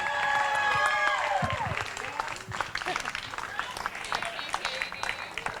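Applause from wedding guests after the speeches at a reception, dense clapping mixed with cheering and whistles, loud at first and then thinning slightly, with voices talking over it.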